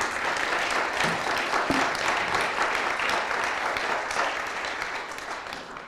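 An audience at a conference applauds three speakers after a panel, giving a steady, full round of clapping that holds evenly and tapers slightly at the close.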